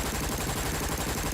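Continuous dense gunfire in an audio drama scene, a steady wash of rapid shots blending into a loud unbroken barrage for the whole stretch, with no voices over it.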